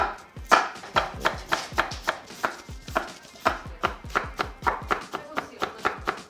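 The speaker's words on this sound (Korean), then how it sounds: "오이하고 당근을 채 썰어 주세요." A knife julienning cucumber and carrot on a cutting board, a steady run of quick, crisp chops repeating closely for several seconds, sharp and near.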